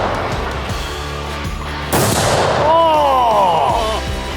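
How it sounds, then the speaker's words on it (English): A hunting rifle fitted with a muzzle brake fires 134 grain Browning BXR ammunition outdoors, a single loud sharp report midway through, with background noise before it and a lingering ringing tail afterward. "With the muzzle brake and 134 grain Browning BXR ammo, this is a hard-hitting rifle that produces very little recoil."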